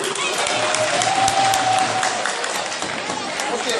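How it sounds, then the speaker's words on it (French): An audience claps and cheers loudly and continuously at a humorist's stage show, a dense sustained wall of applause filling the whole stretch. "Est-ce qu'on peut applaudir pour ces de Kanka Zérékoré?"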